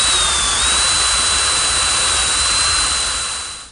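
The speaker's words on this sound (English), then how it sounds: "Now I want to drill some holes in each corner for these leveling screws." A power drill whines at a steady high pitch for a few seconds, drilling holes in wood, running continuously before winding down at the end.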